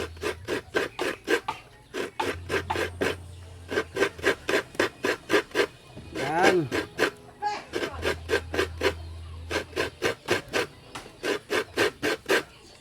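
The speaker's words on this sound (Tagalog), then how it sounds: "Inuuna muna pag nagkayod ka ng nyog, inuuna yung gilid dito." Coconut meat grated by hand on a scraper, a fast, regular series of rasping strokes close up, pausing briefly mid-way before resuming in the same even rhythm, with a low hum underneath.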